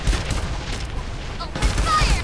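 Rapid bursts of gunfire in the video game Farlight 84 rattle and boom in dense fusillades, loud and close, with game sounds layered over the shots.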